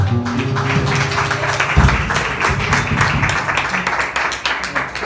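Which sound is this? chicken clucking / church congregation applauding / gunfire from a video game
church congregation applauding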